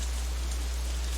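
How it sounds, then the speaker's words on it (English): Steady rain falls in the Katawa Shoujo visual novel near the girls' dormitory, a constant even hiss with no breaks or drops standing out, alone and with no voices. "As we approach the girls' dormitory, it starts to rain again."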